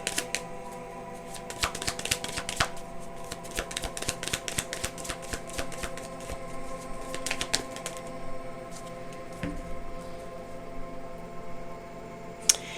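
Tarot cards being shuffled up close, in bursts of quick riffling clicks and flutters that come and go for several seconds, then taper off into quiet handling.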